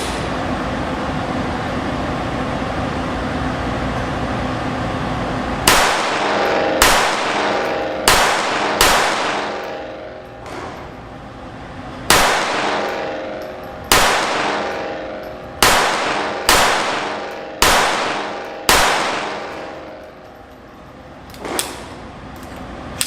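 Sig P322 .22LR pistol fired in quick bursts of sharp, loud reports, each shot followed by a bright ringing clang from steel targets, in clustered strings with short pauses between them.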